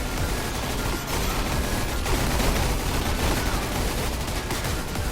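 Dense, continuous battle rifle gunfire crackles in a Roblox Gun Game match, overlapping shots from several weapons forming a loud, steady barrage with no clear gaps for the full length.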